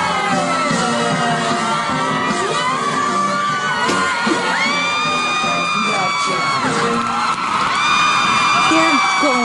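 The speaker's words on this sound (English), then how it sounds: "They were screaming. There was a couple hundred people there watching." A crowd of a couple hundred people whoops, yells and cheers loudly and continuously, with rising shouts and bellows layered over dense crowd noise throughout.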